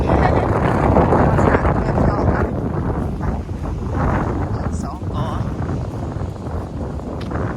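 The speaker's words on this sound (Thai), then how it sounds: "ลมลมลม" Strong wind blowing at the seashore, a loud, steady roaring buffet against the microphone that covers the whole stretch with little variation.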